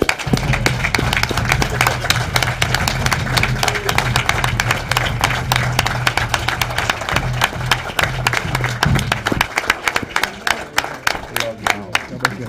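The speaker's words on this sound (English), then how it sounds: "Give him a hand clap." An audience claps for a couple at a vow renewal ceremony, with broad, sustained applause filling the room while music or voices run underneath before it thins out near the end.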